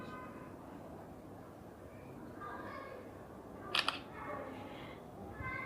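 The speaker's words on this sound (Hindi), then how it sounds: "तो हम इससे एक फ़ोटो निकालेंगे।" A Samsung phone's 24-megapixel front camera fires a single brief, sharp shutter click, standing out from low ambient room noise.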